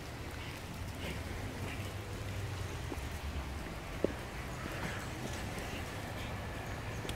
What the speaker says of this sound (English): It is really peeing it down.